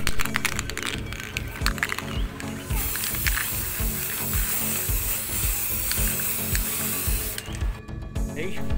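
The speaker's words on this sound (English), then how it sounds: "spray muna natin dito sa labas." Aerosol spray paint hisses steadily outdoors as white paint is sprayed onto recycled materials for a handmade wall clock, a broad continuous spray lasting several seconds with faint clicks and background clatter around it.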